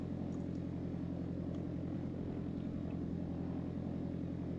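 Piper Arrow III propeller plane engine idling on the taxiway at Letňany before a run-up, a steady droning hum with a low rhythmic propeller throb, loud and continuous with no voices.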